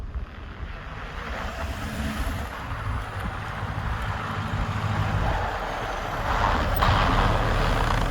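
A truck on BFGoodrich KO3 tires climbs an icy track in four-wheel drive at minus 19 degrees, a steady close engine drone and tire rumble that swells slightly toward the end.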